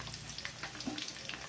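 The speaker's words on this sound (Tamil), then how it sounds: "பெரிய வெங்காயம் நான் சின்னதாக கட் பண்ணிட்டேன். அதை நம்ம போட்டுக்கலாம்." Chopped large onion frying in a pan while mutton pepper fry is being made: a steady, low, even sizzle that stays close and quiet for the whole stretch, with no voices.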